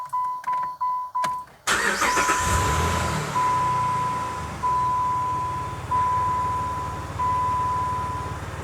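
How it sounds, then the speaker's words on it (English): A 2002-2012 Jeep Liberty engine cranks in several short bursts, then catches and settles into a steady idle. A repeating electronic chime sounds over the running engine. "Now let's start this thing and see if the headlights work."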